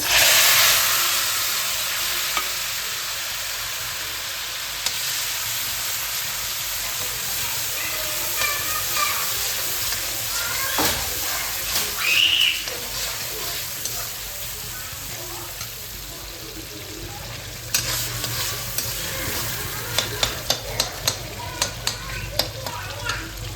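Tomatoes frying in oil for paneer pulao give a steady, loud, close sizzle and hiss, with scattered spatters and stirring clicks throughout, and a burst of sharper crackles near the end.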